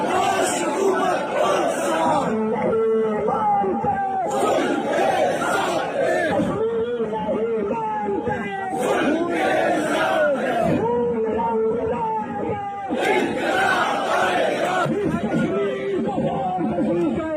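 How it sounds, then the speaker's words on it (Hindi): A large crowd of Kashmiri protesters in Pakistan-administered Kashmir, a dense roar of many voices chattering and shouting together, loud and continuous with surging bursts, no single speaker standing out. "तो देख सकते हैं दोस्तों कितनी जबरदस्त भीड़ है।"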